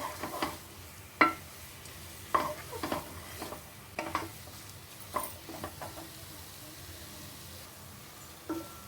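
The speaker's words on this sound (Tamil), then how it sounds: "வெங்காயம் உருளைக்கிழங்கு எல்லாம் அது வரைக்கும் நல்லா கலந்துக்கலாம்." Onion and potato kachori filling is stirred in a pan with a spoon, giving scattered scraping and clinking taps over a faint background hiss, close and moderately quiet.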